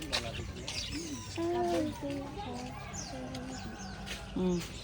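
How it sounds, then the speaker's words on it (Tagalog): Lovebirds chirp and twitter in short, bright calls close by, with voices talking over and around them at a moderate, quiet level. "Lovebirds."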